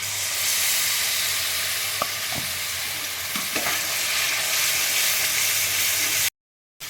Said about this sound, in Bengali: এবারে আমি যে পেস্টটা বানিয়েছিলাম পুদিনা পাতা আর ধনে পাতা কাঁচা লঙ্কা এই পেস্টটা এবার আমি দিয়ে দিচ্ছি